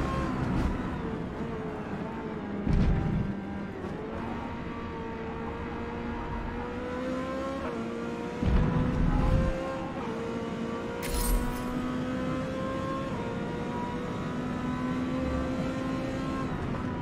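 A-Class V8 race car engine in a Forza racing game, revving steadily with rising and falling harmonic tones and a few louder bursts, heard continuously without talk.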